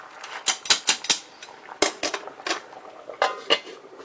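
A metal lid goes onto a cooking pot, giving a quick series of close, bright clanks and rattles with short pauses between them.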